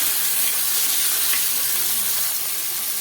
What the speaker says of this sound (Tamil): அதையும் சேர்த்து நல்லா வதக்கி விட்டுருங்க.